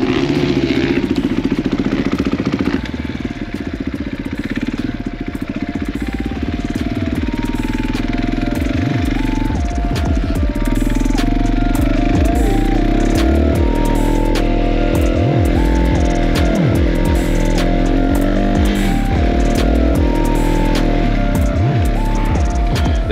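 Dirt bike ridden on a motocross track at Chestnut: a loud, continuous engine roar with rising and falling revs as the rider shifts and accelerates, close and steady throughout.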